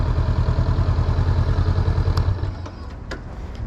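A Honda 500cc motorcycle engine idling close by, a steady pulsing low thrum with a light mechanical clatter, easing slightly in level toward the end.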